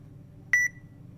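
A single short electronic beep sounds from a phone app as a product barcode is scanned, a clear tone over a faint low hum, with no talking.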